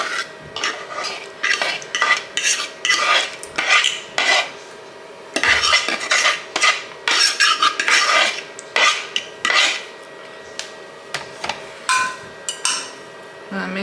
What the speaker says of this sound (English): I'm gonna mix it all up so that everything gets coated.